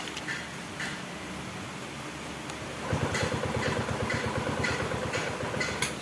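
A TVS XL100 BS6 moped with a faulty engine temperature sensor cranks and catches, its small single-cylinder engine settling into a close, steady putter after a quieter stretch of clicking and hum.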